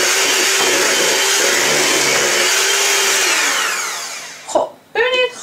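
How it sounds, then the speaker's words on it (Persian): An electric hand mixer whips cream in a bowl with a steady, loud whirring drone that fades as it slows and stops, followed by a few short knocks or taps at the end. "خب ببینید خامه تا این حد که زده شد با میکسر برقی من دیگه اینجا دست نگه میدارم"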